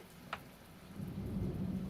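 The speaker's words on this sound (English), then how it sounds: "Torrential fucking downpour." A torrential downpour hisses steadily while low thunder rumbles and builds, heard faintly from indoors with a single brief tap early on.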